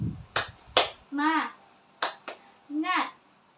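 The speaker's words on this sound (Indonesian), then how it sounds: "mari kita tepuk semangat. Ayo, tepuk semangat." A teacher leads an Indonesian primary-school clapping chant, sharp claps in quick groups between short spoken chant words, crisp and close, repeating in a steady call-and-response pattern.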